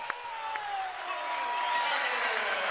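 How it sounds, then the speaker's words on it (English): The Hunterdon Central crowd roars at a wrestling match in a school gym, a loud sustained wall of cheering and yelling with a few sharp claps and whoops, rising slightly toward the end. "The Hunterdon Central crowd is super, super loud"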